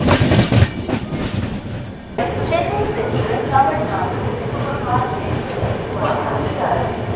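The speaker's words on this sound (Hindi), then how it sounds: "यहाँ पर भोपाल जंक्शन पर अपनी ट्रेन पहुँच रही है।" The 12622 Tamilnadu Superfast Express rolls into platform 1 at Bhopal Junction with a loud, steady rumble and wheel clatter heard from on board. A voice can be heard over the train noise.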